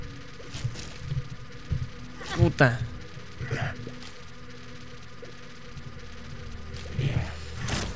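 Buzzing flies in The Binding of Isaac game, a steady insect drone beneath game sounds, with someone speaking Spanish over it in a few brief bursts.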